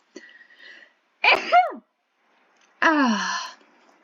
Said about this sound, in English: I sneeze and I cough at the same time.